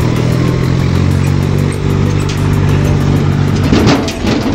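A tractor engine hauling sand near Yulung Pokhari runs loud and close, a steady low rumble with a rough throbbing idle that shifts slightly near the end.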